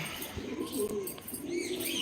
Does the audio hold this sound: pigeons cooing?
yes